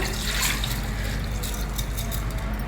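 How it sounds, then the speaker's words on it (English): Water drains off soaked raw rice in a continuous soft trickle and splatter, close by and steady, with a low background hum underneath. "Next, drain out all the water."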